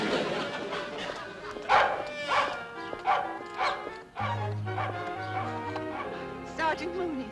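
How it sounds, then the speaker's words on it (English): A dog barks repeatedly in a short rhythmic run of yips and woofs, fairly close, followed by a whine, while people talk over and between the barks. "We gotta make that dog stop barking."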